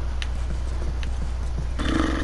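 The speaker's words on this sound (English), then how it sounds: "I do mean get off the horse then." Horse in The Last of Us video game, with soft hoof clip-clops in a steady walking rhythm under a constant low rumble, and a brighter burst of game sound near the end.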